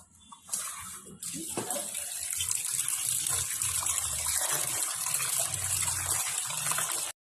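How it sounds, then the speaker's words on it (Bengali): Running tap water gushes and splashes as loita fish are washed, starting with a few light trickles before a steady loud stream takes over and continues close up to the end. "আমরা একটু আগে ধুয়ে নিলাম লোটে মাছটা"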